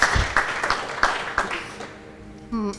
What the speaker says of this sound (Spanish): Vamos a recibirla también con un fuerte aplauso.